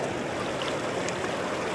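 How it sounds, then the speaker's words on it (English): Ocean waves wash onto a beach where someone is digging for worms, a close, continuous rushing surf that fills the short clip at a steady, loud level with no voices. "See, there's multiple waves coming."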